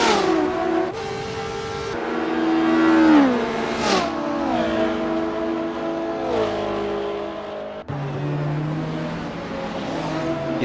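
Engines of 1966-era race cars at Sebring in Assetto Corsa, revving and shifting through gears as a field of cars battles for position, with pitch rising and dropping over a steady, close engine roar.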